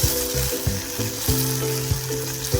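Onion and finely chopped tomato fry in hot oil for a capsicum bhaji, a loud steady sizzle close by, broken by a few short scraping stirs, with no voices.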